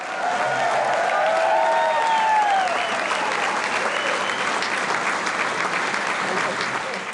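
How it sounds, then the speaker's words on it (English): A banquet crowd at a Carroll Area I-Club gathering gives Dave Long a sustained round of applause, dense and steady for several seconds, with a few voices and cheers mixed into the clapping. "One more round of applause for Dave"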